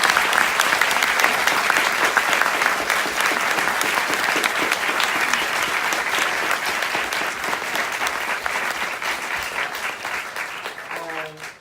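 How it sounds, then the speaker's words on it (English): Sustained applause from a crowd, loud and steady for several seconds before slowly tapering off at the end. "Can we just give them a round of applause?"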